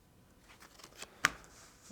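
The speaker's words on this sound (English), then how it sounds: "So I'm going to take the remaining cards, giving those a shuffle." Playing cards from The Last Lighthouse board game riffled in a quick shuffle, giving soft papery flutters that build to one sharp snap near the middle, close and alone.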